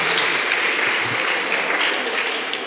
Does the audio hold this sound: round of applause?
yes